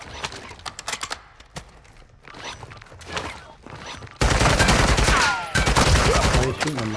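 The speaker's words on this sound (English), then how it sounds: "Why are you shooting them now?" Video game gunfire mixed with clip-clopping and horse sounds, starting with scattered sharp shots and then turning into a loud, dense, continuous barrage in the second half.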